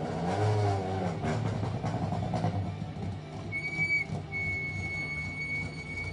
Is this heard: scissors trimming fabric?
no